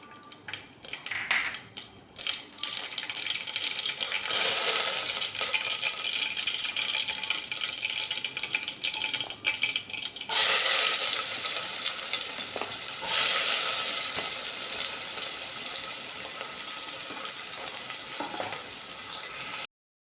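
Loud, steady sizzling of cumin and mustard seeds tempering in hot oil for masoor rice. It keeps going with a few sharp surges, and no one speaks.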